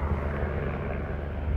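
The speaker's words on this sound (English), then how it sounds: "I think there is a helicopter above me right now" A helicopter passes overhead in a quiet city, a steady low droning rumble of rotor and engine that holds throughout at moderate distance.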